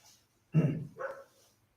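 A dog barks across the road, answering another call: two short, fairly loud barks in quick succession, the first heavier and lower, the second shorter and higher, with nothing else around them.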